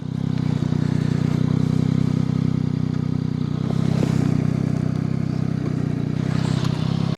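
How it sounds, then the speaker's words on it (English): A 2021 Yamaha MT-09 900cc three-cylinder motorcycle engine idles and burbles steadily, a low throbbing rumble close by with slight rises in revs. "a little sound test from this triple cylinder 900cc motorcycle."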